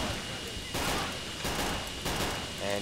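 Rapid bursts of gunfire aimed at infantry in the Men of War real-time strategy game, playing a wave-defense mod. Dense, loud volleys roll almost continuously, mixed with other battle noise.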